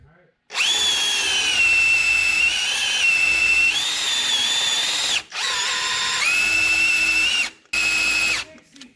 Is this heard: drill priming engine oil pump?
yes